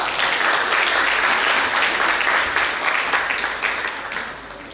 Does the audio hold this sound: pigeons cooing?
no